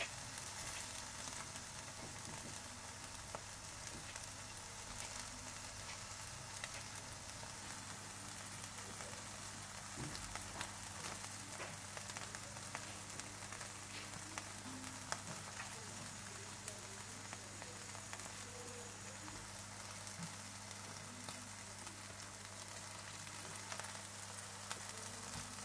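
Mutton chops sizzling on a grill with butter, a steady crackling hiss with tiny pops that continues without a break throughout.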